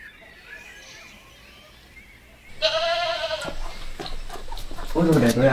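Goats bleat at a farm where a mother goat has just given birth to a newborn kid, with a loud nearby bleat followed by more calls as people talk excitedly over them.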